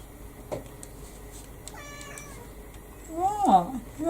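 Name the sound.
cat meowing, wanting to come in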